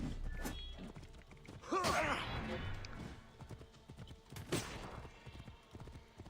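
Horse hooves clip-clop in a rapid gallop in the game Assassin's Creed Origins, with snorts and a whinny mixed among bursts of combat noise and a voice speaking over it.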